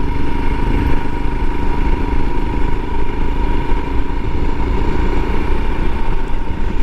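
A Royal Enfield Himalayan motorcycle engine revs steadily as it climbs a hill on a winter ride, a loud, close, continuous drone with no talking.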